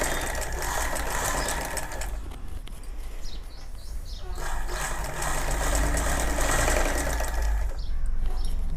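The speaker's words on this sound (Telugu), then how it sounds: "ఈ లైనింగ్ క్లాత్ని మొత్తం కూడా నేను స్టిచ్చింగ్ చేసుకుంటాను" A sewing machine runs steadily, stitching lining cloth onto an elbow sleeve, its fast mechanical whirr continuing loud and close with only slight pauses in speed.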